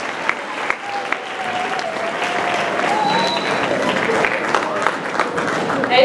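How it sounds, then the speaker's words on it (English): Students in an eighth-grade class applaud a guest speaker at a school, steady dense clapping filling the room for several seconds, with voices and faint cheers mixed in under the applause. "Keep the clapping going."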